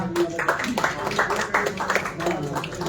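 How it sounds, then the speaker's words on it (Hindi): Audience at a Hindi poetry award ceremony clapping for an honoured guest, a lively patter of many hands in uneven bursts, close and moderately loud. "चमनलाल शर्मा जी के लिए जोरदार तालियां।"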